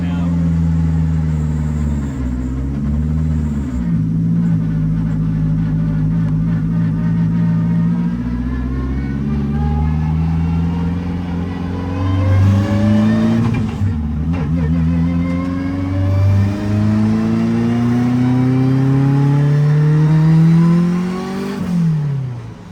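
The engine of a Hondaru daily driver car runs close by, rising and falling through several revs and settling back toward idle, with a rough, throaty tone and some people talking over it.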